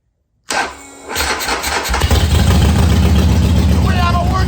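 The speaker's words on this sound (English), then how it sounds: "we're going to crank on the motor and see if it fires" A Harley-Davidson Sportster motorcycle engine cranks briefly, then catches and roars into a steady, loud running idle with a throbbing low rumble.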